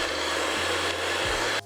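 An electric mixer beats eggs and sugar for a chocolate torte, giving a continuous close whirring drone whose pitch dips briefly a couple of times.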